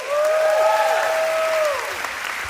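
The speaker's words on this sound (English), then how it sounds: "huge round of applause for Malika and me" Wedding reception guests applaud steadily for a couple of seconds and then taper off, with a sustained tone over the clapping.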